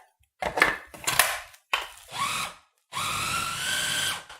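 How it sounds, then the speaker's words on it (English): Food processor grinds oregano pesto in short pulsed bursts, several brief whirring runs separated by pauses and ending in a longer continuous grind, close and fairly loud. "This food processor doesn't grind really finely"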